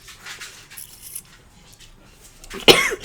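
A single sharp, loud cough bursts out near the end after a few seconds of quiet room sound.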